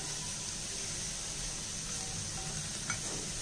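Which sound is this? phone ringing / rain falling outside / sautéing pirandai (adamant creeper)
sautéing pirandai (adamant creeper)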